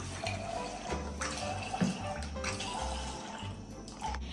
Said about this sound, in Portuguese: E agora eu vou encher de água morna, mais gelada para quente